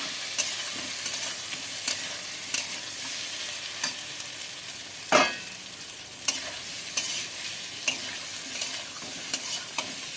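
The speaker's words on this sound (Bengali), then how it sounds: "আলু দিয়ে একটু কষিয়ে নিচ্ছি" Potatoes are stir-fried in spice masala, a soft continuous sizzle broken by regular spatula taps and scrapes against the pan every second or so, close and fairly quiet, with no voices.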